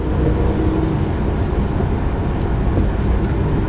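A 2019 Mercedes C-Class sedan cruises at highway speed, heard from inside as a steady, even low road and engine rumble with broadband wind and tire noise, no talking.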